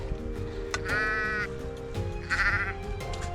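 Two sheep bleats ring out on a damp rocky hillside on a Lake District hike near Hard Knott Pass, the first at mid-distance and the second slightly louder, each a wavering cry over a low background hum.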